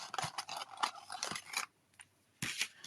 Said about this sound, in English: I'm going to cut out another one of these.